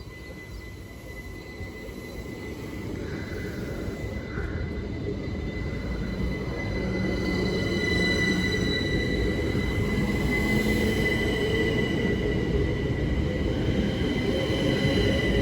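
Class 375 passenger train on the Dover Priory to London Charing Cross service passing Headcorn station, a rising rumble of wheels on rails that swells as it draws near and stays loud, with faint squealing.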